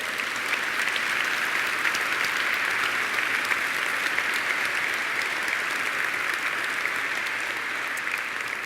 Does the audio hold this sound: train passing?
no